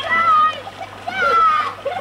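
Children splash about in a backyard pool on a home video from the early 1990s, with choppy bursts of water and excited young voices shouting over the splashing.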